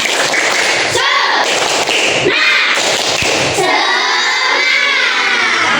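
Primary schoolchildren in a fourth-grade classroom shout and clap through a rhythmic spirit chant, loud bursts of young voices and claps filling the room.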